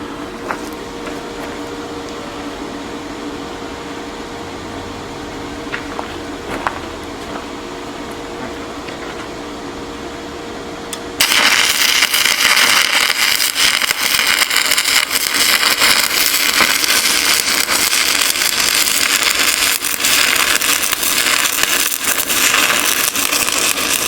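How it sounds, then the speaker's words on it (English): An HTP Inverarc 160 welder lays a bead along the back side of a steel wedge for a commercial firewood processor, a loud, steady broadband crackle and hiss that starts abruptly partway through and runs on unbroken after a quieter hum. "now Tim is going to make a weld along the back side"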